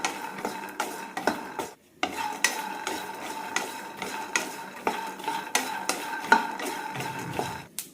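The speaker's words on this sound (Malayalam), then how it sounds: "കടല വറുത്തെടുക്കാൻ ഏകദേശം പത്ത് മിനിറ്റോളം ആകും മീഡിയം ഫ്ലെയിമിലിട്ട് വറുത്തെടുത്താൽ മതി" Peanuts roasting in a pan over a medium flame are stirred with a utensil, giving repeated close scraping and clinking strokes in an uneven rhythm, broken by a brief pause, with no talking.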